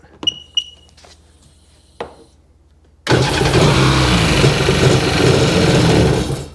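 A 2002 Sea-Doo GTX DI personal watercraft engine cranks after a few clicks and knocks, then catches and runs loud and steady up close with a rough, buzzing idle.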